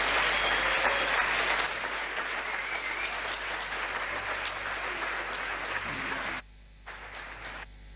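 Audience applause for reggae artist Don Carlos at a Reggae University event, a dense sustained clapping crowd that carries for about six seconds before dropping abruptly to a thinner scattering of claps.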